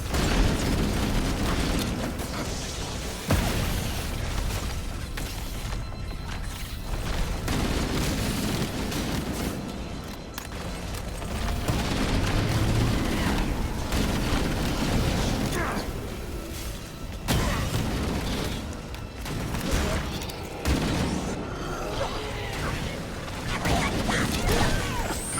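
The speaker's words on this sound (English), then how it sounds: "There's so many, like, explosions there." In Halo: Combat Evolved, explosions and crashing booms of battle keep rumbling, dense and loud, under a person talking, with mechanical clatter and intermittent heavy blasts throughout.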